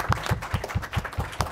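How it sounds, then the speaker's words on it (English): A few close, loud hand claps at a lecture gathering, struck in a quick, regular rhythm about five times a second for a brief burst, with no other voices heard. "let's give a round of applause to Christina."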